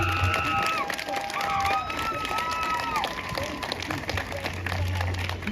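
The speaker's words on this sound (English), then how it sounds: "So please, round of applause for Sufyan." A crowd applauds and cheers for a speaker at an outdoor rally in Leeds, a continuous wash of clapping and voices with some shouting mixed in, moderately loud.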